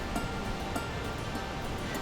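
Small Thoseghar waterfall in Satara pours out a steady, even rushing hiss of falling water, heard close up and constant throughout.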